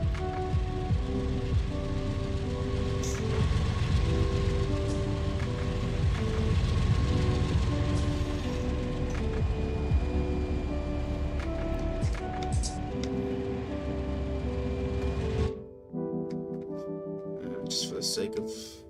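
Locomotives idling in a rail yard in the Run8 train simulator, a steady low diesel rumble with tonal hums, dropping suddenly to a quieter, thinner drone near the end.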